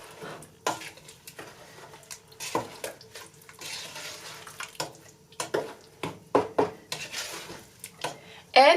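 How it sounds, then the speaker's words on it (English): A spoon stirs blackberry pie filling in a pot toward a slight boil, giving irregular scrapes and clinks of moderate loudness, with a sharper clatter near the end and no voices. "we are going to just mix this till it comes to a slight boil"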